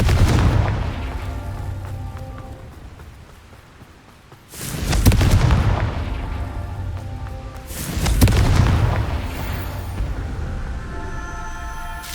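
Three heavy, booming blasts from the Confringo fire spell in Hogwarts Legacy, each a loud explosive burst with a rumbling tail, spaced a few seconds apart with no talk.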